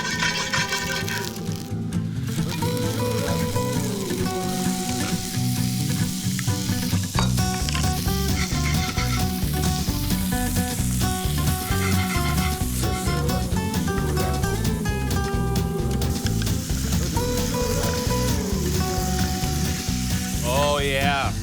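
Shrimp sauté in olive oil with garlic, sending out a continuous loud sizzle and hiss for a long stretch, mixed with a prominent tonal background that sounds like music.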